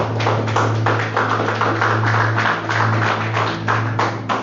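A church congregation claps together in a steady, loud rhythm of many hands, continuing for several seconds under a low droning hum.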